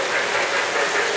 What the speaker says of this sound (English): There's my Polar Express. It slows down on this end.